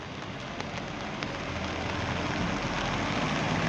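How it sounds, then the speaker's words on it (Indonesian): Light drizzle falls at the Purabaya bus terminal in Surabaya, a steady soft hiss of rain with faint traffic rumble underneath and no voices. "suasananya hujan rintik-rintik."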